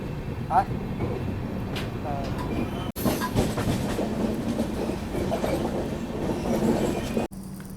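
The Pune to Kanyakumari Express rolls along the rails after departing Yerraguntla, a steady rumble of wheels and carriage noise with rhythmic clacking, heard from inside the coach and broken by two brief sharp cuts.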